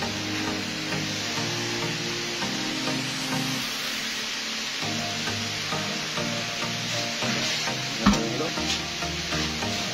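Food frying in a frying pan, a continuous bright sizzle and crackle held close and even, with a low steady hum beneath and one sharp clink near the end.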